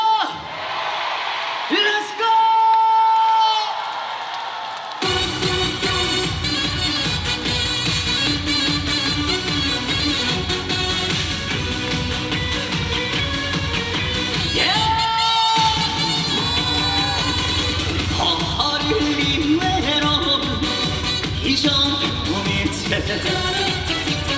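Concert crowd at a live performance in Cheongju cheering, whooping and shouting, a dense roar that swells and carries on over amplified music after a performer speaks briefly at the start.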